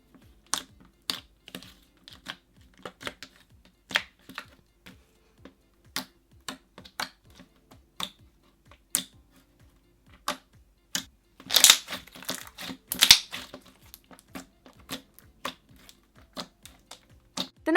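Crunchy, clicky glossy slime tinted with food coloring is squeezed and pressed, giving a steady run of sharp close crackles and pops that bunch into a denser, louder crunching burst near the middle. No one talks.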